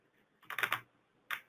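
Keys on a computer keyboard are tapped in a quick burst of several close clicks, then one more keystroke after a short pause, quiet and close with no talking.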